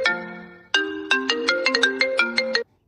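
A silent-mode mobile phone ringing loudly when triggered remotely, a melodic ringtone of bright tonal notes: one long held chord, then a quick run of rhythmic plucked notes, close and alone before cutting off.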